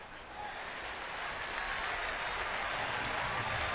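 A baseball stadium crowd claps steadily after a strikeout, a broad wash of applause that swells in the first half-second and then holds, heard fairly faint from a distance.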